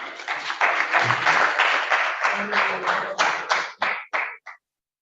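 Audience applause at an Edo Language Day celebration, a dense burst of many hands clapping that holds steady and then thins into a few scattered final claps before stopping.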